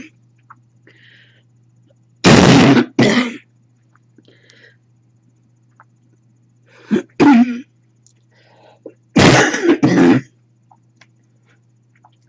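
Three bursts of harsh coughing, each a pair of sharp hacks, separated by quiet pauses over a low steady hum.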